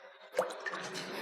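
Salted water stirred in a cooking pot before adding rice, giving a short sequence of soft liquid swishes and drips, close and fairly quiet, with one brief sharper splash.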